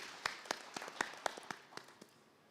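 A handful of people clap at an agriculture dialogue conference: about ten separate, evenly spaced claps that thin out and fade over two seconds, faint and a little distant, with no talking.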